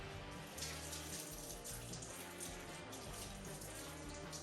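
Water poured from jugs onto an old 1967 Chevrolet C30 truck, a steady, loud splashing gush that runs continuously and close by with no talking.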